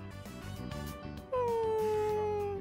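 Dog in the game Persona 3 Reload giving a long, high whining cry that slowly falls in pitch, breaking in loudly after a quieter stretch of background game audio.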